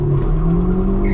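A 1992 Citroen ZX, roughly 70 horsepower, accelerates hard in first gear at full throttle on a highway, its loud, steady engine drone filling the cabin with no talk.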